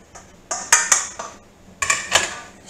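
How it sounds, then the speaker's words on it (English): Metal spoon clanking against the side of a soup pot while potatoes are stirred into potato soup, a few sharp close clinks in two short bursts with quiet gaps between. "Stir those potatoes in"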